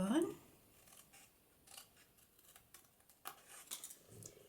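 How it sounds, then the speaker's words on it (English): Scissors snip through paper card along a scored fold line during card making, a series of faint, close, crisp cuts with short gaps, opening with a brief voice. "Then we cut that piece off along that score line."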